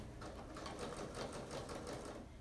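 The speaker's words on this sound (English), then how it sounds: "Let's get started on sewing." A sewing machine stitching along the edges of a pillow, running in a steady rapid mechanical patter with even needle strokes throughout, moderately quiet and close, with no talking.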